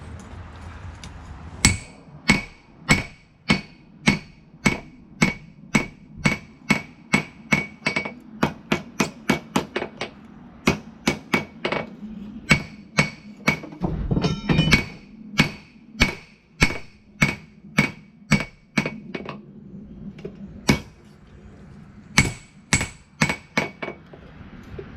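Steady hammer blows ring out on a patch knife being forged, dozens of sharp metallic strikes in fast, regular runs with brief pauses and a short hiss midway, close and loud.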